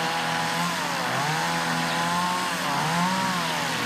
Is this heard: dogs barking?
no